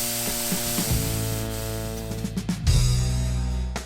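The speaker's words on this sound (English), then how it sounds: "this fine mister. The longer trigger helps keep the mist going." A fine-mist spray bottle with a long trigger spits out water in short hissing bursts, close up, over a steady background hum.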